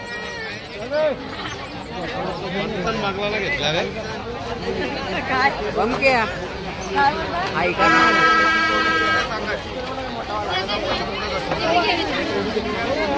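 Night crowd at the Mhasa Yatra fair in Murbad, a dense hubbub of many voices nearby with a loud tonal blare partway through, while someone speaks over it.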